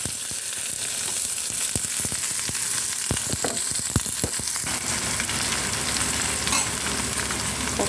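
Onions fry in coconut oil with cumin, a close, steady hiss and crackle, interrupted by a run of quick spatula clacks against the pan as they are stirred.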